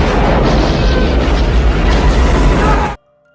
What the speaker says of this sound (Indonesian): Spontan ledakan dahsyat pun terjadi.